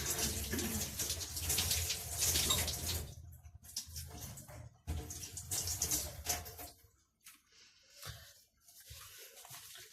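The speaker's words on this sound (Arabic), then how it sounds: "انا بس بغسل ايديا" Water from a kitchen tap runs as hands are washed during home cooking, with splashing bursts that start loud, then break into intermittent gushes and pauses before trailing off.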